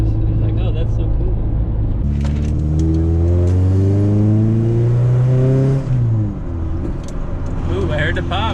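A Toyota Corolla with an exhaust leak revs hard, its engine note climbing and then dropping off, ending in a brief pop and crackle; people talk loudly over the close, rumbling exhaust.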